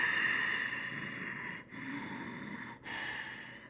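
Steady breathing in a yoga class during a crescent lunge, a soft continuous airy hiss close by with two brief dips where the breath pauses, with no talk.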